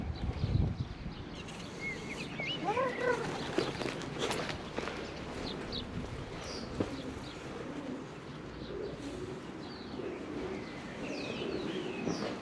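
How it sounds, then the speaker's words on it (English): Pigeons coo repeatedly inside a large, empty building near a harbour on the Caithness coast, soft and echoing, with a few shuffling footsteps and no talk. "It belongs to the pigeons."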